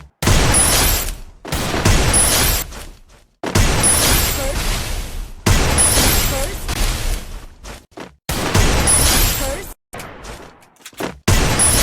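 Desert Eagle pistol fired in a shooting video game: loud, close gunfire arriving in several dense bursts a second or two long, each cut off by a brief silence, with no talking.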